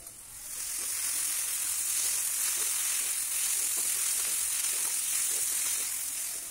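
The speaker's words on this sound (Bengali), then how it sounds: "এবারে আমি ওর মধ্যে ভাজা মাছগুলো দিয়ে সব পেঁয়াজকালি মাছ সব দিয়ে কষবো," Fried pomfret pieces sautéing with onion and spices in a pan give a steady, close, loud sizzle and crackle of frying oil throughout, with faint stirring and no talking.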